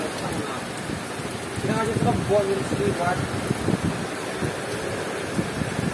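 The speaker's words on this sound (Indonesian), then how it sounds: "Kita terkena badai, sunsetnya lagi bagus-bagusnya tadi tiba-tiba diserang hujan." A storm sweeps rain and wind over the beach at Labuhan Jukung, Krui, a dense rushing downpour heard close, with voices briefly talking in the middle.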